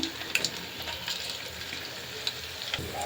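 Chicken pakoda pieces frying in oil, a soft steady sizzle with light crackles and a few small pops, close and fairly quiet.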